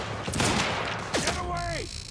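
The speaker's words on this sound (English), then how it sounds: "Oh, this carbine's crap!" Carbine fire from a firefight in the shooter game Quantum Break: a few sharp reports close by, then a whining, descending sweep of sound toward the end, with a talking voice underneath.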